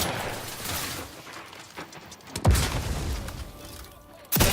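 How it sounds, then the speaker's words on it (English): Two heavy grenade blasts in The Outer Worlds 2, played on hardest difficulty, each a loud booming burst with broad noise, separated by a couple of seconds, over a murky low combat rumble. "Throwing so many grenades."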